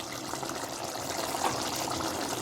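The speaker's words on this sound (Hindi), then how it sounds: "थोड़ा सा पानी डालेंगे इसके अंदर" A little water is poured into a pot of cooking Patiala chicken, a steady splashing trickle close by, continuous and moderately loud with no talking.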